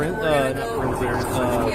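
An ambulance siren wails close by in a warbling, rising and falling pattern while people talk over it.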